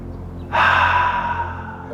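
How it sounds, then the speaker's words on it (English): A single deep breath drawn in during a yoga neck-stretching exercise, a close breathy inhale that swells suddenly and fades slowly over a low steady hum, with no talk. "Take a deep breath."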